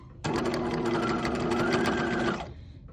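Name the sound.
sewing machine stitching an eyeglass case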